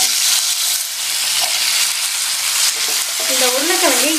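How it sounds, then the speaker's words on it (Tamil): Potatoes fry loudly in plenty of oil with asafoetida in a pan for beans poriyal, a dense, close, unbroken sizzle with occasional stirring sounds and no speech. "இந்த உருளைக்கிழங்கு எண்ணெயிலேயே நல்லா ஃப்ரை ஆகணும்."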